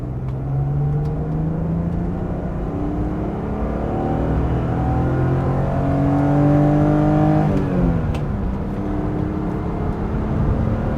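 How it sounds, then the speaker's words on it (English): A BMW E36 328i pulls hard in second gear, its engine note rising steadily for about seven seconds before dropping at the shift and settling again, a loud, continuous in-car drone. "Clean pull in second gear."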